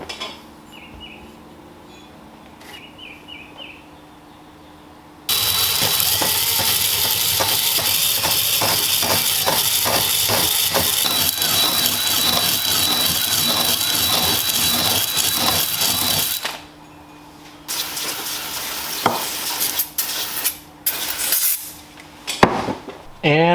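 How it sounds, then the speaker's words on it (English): A ball hone grinds inside the bore of a KTM 250SX-F engine cylinder, giving a loud, steady whirring, scraping rush that runs for about eleven seconds, then stops. Quieter clanks and handling noises follow. "Little ball hone here should do the trick."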